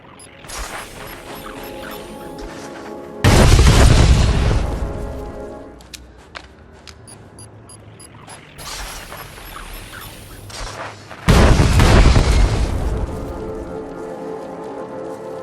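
Orbital strikes called down on cannon positions in the Star Wars: The Old Republic game, heard as two heavy, loud booming blasts with rumbling tails, separated by quieter mechanical clanking and ambient battle noise.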